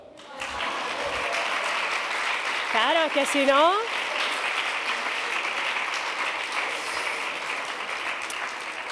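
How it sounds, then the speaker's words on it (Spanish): Sustained audience applause at a political summit with parliamentary speakers, steady throughout, with a brief spoken line and a vocal whoop rising over the clapping. "Un aplauso, ¿no?"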